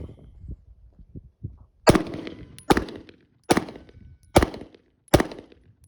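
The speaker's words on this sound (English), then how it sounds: "I'm going to try and shoot another group" Staccato C2 pistol firing a five-shot group, five sharp, loud reports spaced evenly about a second apart, preceded by faint soft knocks and handling sounds, with no talk.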